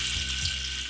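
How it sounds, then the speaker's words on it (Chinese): Doubanjiang chili bean paste sizzles in hot oil in a wok for Sichuan-style braised eel, a steady close frying hiss that ends in a sharper burst of crackle. "豆瓣下锅"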